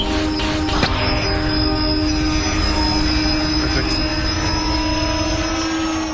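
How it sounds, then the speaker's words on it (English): Energy kite, a tethered wing shaped like a model airplane, launching on propellers outdoors in strong wind: a steady, loud engine-like drone with sustained tonal whine, continuous throughout. "For takeoff, the propellers act like they do on a normal plane."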